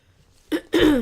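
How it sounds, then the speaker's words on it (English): A single person clears their throat close up in two quick rasping bursts, the second longer and rougher, with no talking. "Sorry about me clearing my throat all the time."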